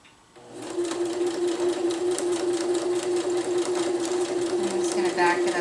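A sewing machine runs steadily and close, stitching down the end of a hammock underquilt protector's casing channel with a continuous fast mechanical hum and needle chatter after a brief quiet start.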